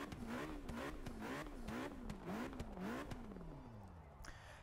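A McLaren P1 engine in Forza 6 revs repeatedly in a quick rhythmic series of rising and falling pulls, loud and close, before winding down and fading toward the end.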